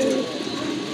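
A pair of blue Rajgolla pigeons coo close by in a short, low, throaty burst over a faint background hum.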